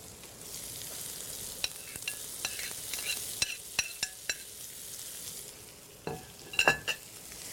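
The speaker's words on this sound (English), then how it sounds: "I'm going to add my garlic. We're going to let that just cook up a little bit." Garlic and mushrooms sizzle in a pan, a steady hiss of frying with sharp scrapes and clicks of stirring, and a burst of clatter near the end, close and clear with no talking.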